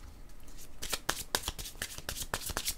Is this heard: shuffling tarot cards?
yes